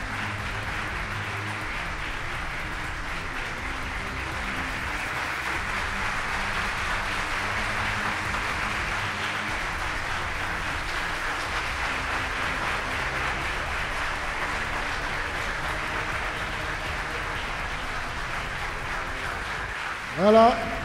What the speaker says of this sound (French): que je vous demande d'applaudir, s'il vous plaît